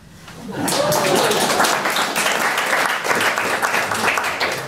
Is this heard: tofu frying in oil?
no